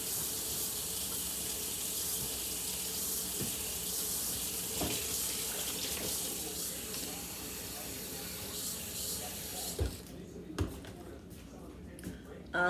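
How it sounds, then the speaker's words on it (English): Hot water runs steadily from a kitchen tap into the sink, a constant rushing hiss that cuts off near the end, followed by a few clunks and bumps. "I'm going to let the hot water run because it's going to be chilly."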